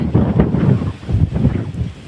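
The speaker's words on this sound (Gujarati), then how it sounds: "અને પવન પણ ખૂબ છે" Strong wind buffets the microphone in gusty, rumbling surges, loud and close, with no voices, outside Vijay Mahal palace in Bhavnagar.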